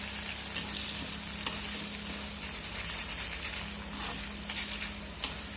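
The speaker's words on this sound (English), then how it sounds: "you need to drop this in the oil" Jackfruit chips frying in hot oil make a continuous bubbling sizzle with scattered small pops and a faint low hum beneath, close and even throughout.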